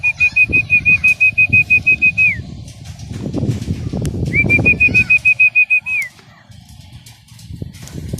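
Young racing pigeons at a trap, with fast, close wing flaps and a steady, high whistle tone that sounds twice, the flapping louder and denser in the middle.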